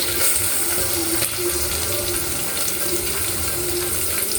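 Shrimp are tipped into hot oil with onions in a pan, giving a loud, dense, continuous sizzle that fills the whole stretch without pause.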